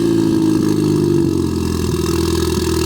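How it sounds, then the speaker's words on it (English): Ford Fiesta ST with a sports cat on a cold start, its exhaust giving a steady, loud, deep idling rumble with slight raspy pulsing throughout, close up and alone. "It's a nice rumble, and this is a cold start as well"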